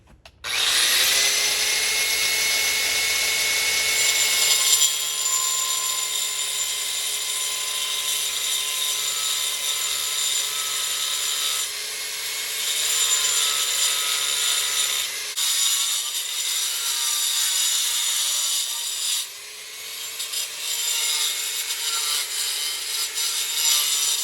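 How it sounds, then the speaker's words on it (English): Angle grinder fitted with a concrete cutting wheel grinding through a concrete slab, a loud continuous high-pitched whine and rasp that holds steady throughout with slight shifts in pitch and load, no talking. "I got the cutting concrete wheel on my grinder."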